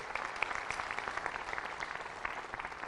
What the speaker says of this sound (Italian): vorrei fare ancora un applauso a questo gruppo